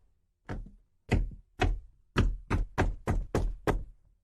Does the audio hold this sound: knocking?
yes